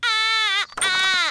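A baby wails loudly in two long, high-pitched cries separated by a brief catch of breath, close and piercing. Cartoon scene.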